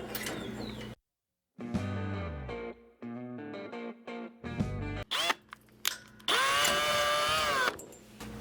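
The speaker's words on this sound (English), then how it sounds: "now we're going to up drill it to the right size for the probe." Drill bit enlarging a hole for an exhaust gas temperature probe on a Sonex kit aircraft, heard as several short close bursts of whirring power-tool noise with pauses, ending in a longer sustained high-pitched drilling run.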